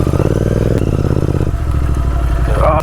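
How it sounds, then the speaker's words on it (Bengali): A Royal Enfield motorcycle thumps steadily up close as it is ridden off-road through mud near Rocky Island, Samsing in the Dooars Valley, its engine loud and continuous with some clatter, then a brief rev toward the end. "বাইকটা নিয়ে চলে যাবো। রয়্যাল এনফিল্ড কিসের জন্য হয়েছে?"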